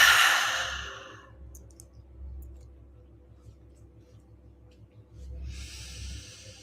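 A deep breath during a guided meditation: a breathy exhale fades over about a second, a quiet low hum fills the pause, and a soft airy inhale rises near the end.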